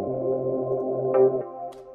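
A soft, sustained synth pad holding a warm chord, shifting once to a thinner chord near the end, with no talking.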